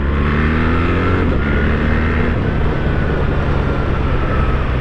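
2024 BMW R 1300GS motorcycle engine pulling hard under throttle, a loud close continuous roar with rising and shifting engine tones and rushing wind, no talking.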